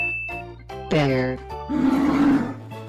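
A bear roars in an animal painting video game, one loud deep growl that swells and fades and then a second rumbling, noisier roar, with a short pause between them and game sounds around them.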